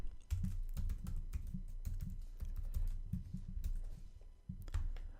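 Login details typed on a computer keyboard: a steady run of crisp, close key clicks in uneven bursts with short pauses, no voices.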